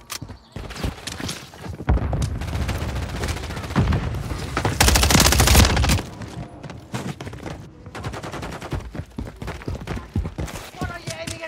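Call of Duty Modern Warfare 3 multiplayer gunfire from an MTZ-556, with dense bursts and rapid rattling shots near the middle, among footsteps and shouting voices.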